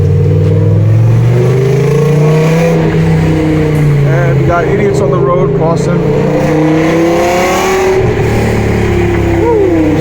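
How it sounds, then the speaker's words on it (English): A BMW E60 M5 V10 fitted with Evolve headers roars and rises and falls in pitch through revs while driving on a city road at night. Someone talks over the engine. "You can just hear that beautiful V10 roaring like it should."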